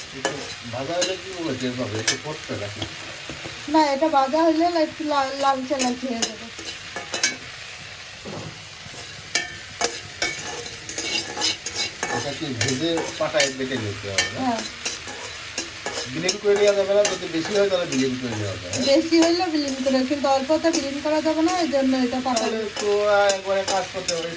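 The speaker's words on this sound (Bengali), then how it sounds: "একদম তেল ছাড়া সুন্দর করে লাল করে ভাজতে হবে" Food dry-fries in a pan with no oil, giving a continuous crackling sizzle with frequent scraping stirs, while people talk over it almost throughout.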